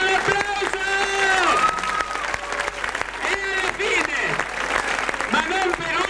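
A theatre audience at an amateur parish play claps steadily for several seconds, with a voice speaking over the applause throughout.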